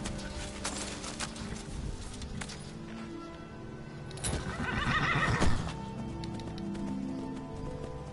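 A horse in Skyrim gives a loud, shaky neigh midway through, set among soft hoof clops and outdoor game ambience, with no talking.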